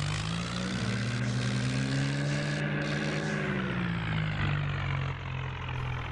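A New Holland tractor engine in the Indian Vehicle Simulator game drones steadily, a loud continuous hum whose pitch rises and falls gently as the tractor pulls an overloaded trolley, with no voices.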